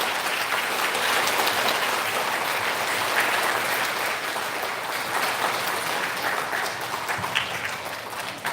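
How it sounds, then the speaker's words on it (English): Sustained audience applause fills a school student recognition ceremony at an elementary school, a dense, steady wash of many hands clapping throughout, fairly close and even in loudness. "Big round of applause for our fifth graders."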